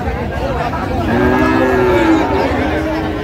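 Friesian and cross-breed bull calves low and moo repeatedly at a busy Dinajpur cattle market. Several loud, drawn-out calls rise close by over steady crowd murmur.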